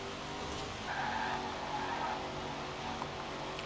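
Car tyres squeal in the racing game Forza Horizon 4, a sustained screech rising for about a second and a half in the middle of a steady engine drone, moderately loud and without speech.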